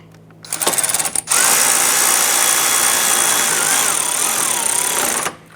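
A power tool snugs down a headlight mounting bracket bolt on a 2011-2018 Ram 1500. After a few short bursts, it runs loud and close in one steady whine for about four seconds, then cuts off.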